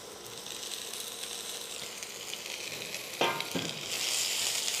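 Tomato goes into onions frying in a pan, giving a steady close sizzle; a sudden louder hiss and clatter marks the addition, and the frying grows brighter and more intense afterward.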